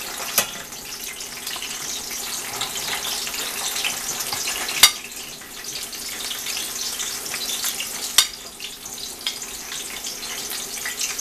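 Onion frying in oil alongside already browned garlic, with chile verde in oil being prepared; a steady, bright sizzle runs throughout, broken by a few sharp clicks and stirring noises.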